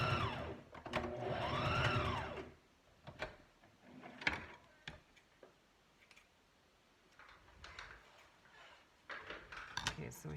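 A sewing machine runs a straight stitch through collage board, a close whirring burst for a couple of seconds followed by scattered ticks, clicks and handling noises, with a person talking.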